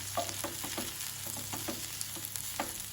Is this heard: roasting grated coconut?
yes